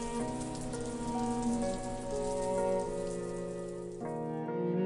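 A heavy downpour in the video game Tales of the Black Forest, a steady hiss of rain under sustained musical tones that shift in pitch, with a brief dip in level near the end.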